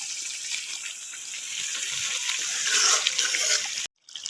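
Water gushes steadily into a pan of fried potatoes, a bright continuous pour with faint sizzling underneath that cuts off abruptly near the end, leaving a short quiet trickle.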